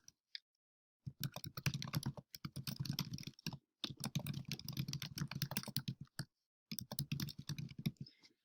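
Close, brisk clicking on a computer keyboard comes in several rapid bursts of keystrokes separated by short silent pauses.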